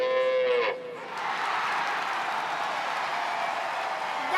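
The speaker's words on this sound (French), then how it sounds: "il y a des meux par là, il y a des meux par ici, des meux par là" A cow gives one loud, close moo that ends abruptly, followed by a sustained noisy wash of sound like a crowd or applause, in the setting of a French children's cartoon farm song.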